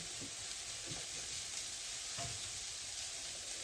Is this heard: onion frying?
yes